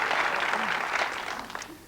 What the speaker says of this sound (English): And they're clapping